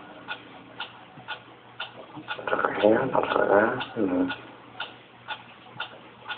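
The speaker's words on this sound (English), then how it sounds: "What is that mysterious ticking noise?" A steady, evenly spaced mechanical ticking repeats throughout, fairly close and moderately loud, while a person speaks briefly over it in the middle.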